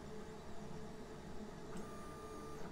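A ROBO C2 compact 3D printer drives its bed with stepper motors, making a steady, faint mechanical whir and hum that holds level with slight pitch shifts throughout.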